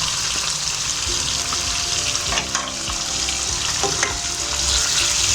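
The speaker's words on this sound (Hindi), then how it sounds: "और मैं डाल रही हूँ लहसुन अदरक का पेस्ट।" Steady, dense sizzling of garlic-ginger paste frying in hot oil over low heat, a continuous crackle filling the clip, with a few soft stirring clinks.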